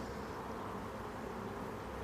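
Honey bees hum steadily throughout a WBC hive opened for a beginner's inspection, a continuous close, moderately loud buzz with no talk over it.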